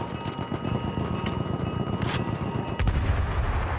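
Dense, continuous wartime battle din from Battlefield 1, with booming artillery fire and gunfire rumbling close and loud throughout, and a heavier blast swelling near the end.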